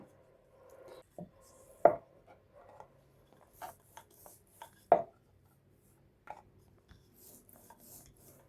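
Chiroti dough being pressed and rolled out by hand on a kitchen surface, giving scattered soft knocks, thumps and brief scraping strokes at an uneven pace, close by, with no talking.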